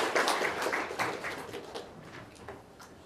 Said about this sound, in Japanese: 拍手でお願いしたいと思います